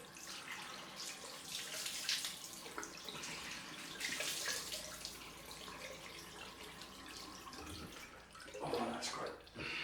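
Tap water runs into a sink while a face is rinsed after a shave, a steady close splashing with bursts of hand-and-water movement and no talking.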